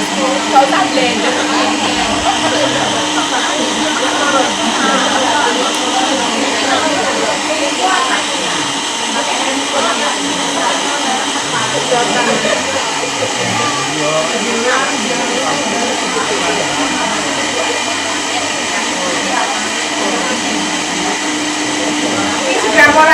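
An automatic soy milk maker grinds and processes soybeans with a steady, loud, dense whirring roar that runs without a break, and a voice talks over it at times.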